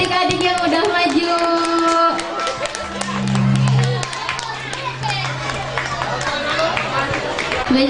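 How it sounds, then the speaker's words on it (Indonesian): Crowd applause and cheering for young children who have just performed at an Isra' Mi'raj religious gathering in a village, with scattered clapping and voices mixing into a busy, lively hubbub. "Beri tepuk tangan yang meriah untuk adik-adik yang udah maju."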